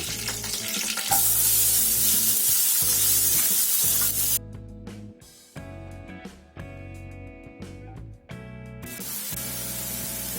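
A cup of onions fries in a hot pan with curry leaves for bhindi masala, a loud, steady close-up sizzle that dips and swells with stirring, with no voices.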